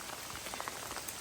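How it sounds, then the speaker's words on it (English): Heavy rain pouring down outdoors on a homestead in Portugal, a dense steady hiss of drops on surfaces, fairly faint and continuous with no voices. "And now it's pouring down."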